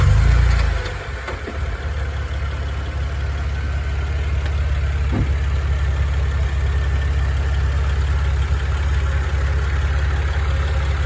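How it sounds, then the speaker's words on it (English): A Vauxhall Insignia VXR engine starts up, rumbling briefly and loudly, then settles into a steady, deep idle that holds close and even for several seconds with no talking. "so this is the engine of the VXR,"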